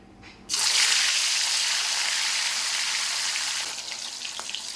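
Pieces of foli fish coated in turmeric slide one by one into hot oil, setting off a sudden loud, steady sizzle that continues, easing slightly toward the end with faint stirring clatter.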